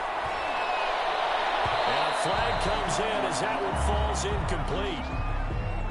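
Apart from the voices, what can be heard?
crowd cheering in Madden football video game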